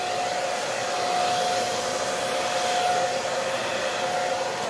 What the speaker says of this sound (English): So let's give this a bit of a blow.